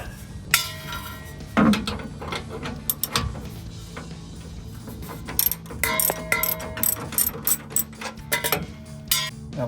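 A ratchet with a 15 mm socket fits bolts on a steel rear bumper of a 2009-2018 RAM 1500: close, steady rounds of metallic ratchet clicks in uneven strokes, with occasional clinks, for about ten seconds.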